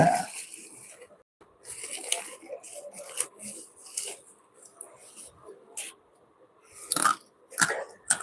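Close, crunchy chewing of dry fried snack sticks comes in irregular bursts of crisp bites, with quiet pauses between.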